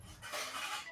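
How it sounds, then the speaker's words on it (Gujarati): Dishes and metal utensils being washed, with a short burst of clinking and scraping that is quiet and close, heard alone. "આ વાસણ ધોવાનું છે."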